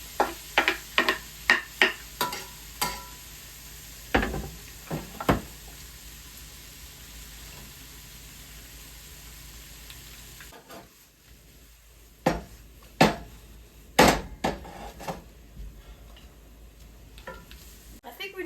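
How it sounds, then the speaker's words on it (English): Apples frying in melted butter in a pan while making Dutch apple pie: a soft continuous sizzle runs underneath repeated sharp clinks and scrapes of a utensil stirring against the pan, in bursts with quieter gaps. "Oh, hear that sizzle."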